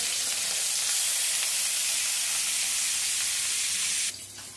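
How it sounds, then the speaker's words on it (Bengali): Fish frying in hot mustard oil in a pan, a loud, steady, dense sizzle that runs unbroken and close up, then drops sharply in level near the end. "সবকটা মাছ দিয়ে আমি ভেজে নিচ্ছি।"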